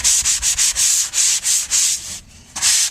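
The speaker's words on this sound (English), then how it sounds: "So I've just got a light sanding." Rhythmic scraping of a sanding block rubbed back and forth over a drywall patch, steady strokes with a brief pause near the end.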